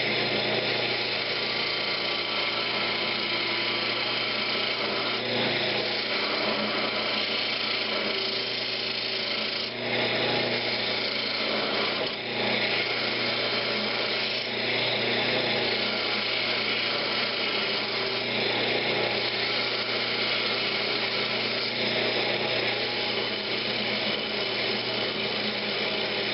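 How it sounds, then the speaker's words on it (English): A bowl gouge cuts a winged wooden box on a wood lathe, giving a steady, continuous whirring and scraping drone with a constant motor hum that stays loud and close throughout. "I'm just going to use my bowl gouge."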